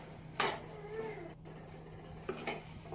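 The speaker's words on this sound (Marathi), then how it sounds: "आता आपण याच्यात तीळ आणि शेंगदाणे टाकून घेऊया, व्यवस्थित मिक्स करायचा" Sesame seeds and peanuts being stirred in a pan with the heat off, a few close scraping and clinking strokes of a spoon against metal over a faint background hum.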